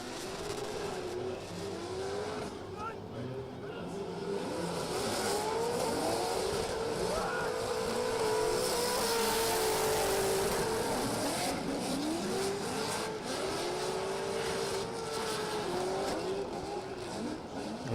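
A drift car at full throttle with tires squealing in long wavering screeches over a steady engine roar, mid-distance and sustained throughout a top-32 battle at the Oman International Drift competition, with a faint voice underneath.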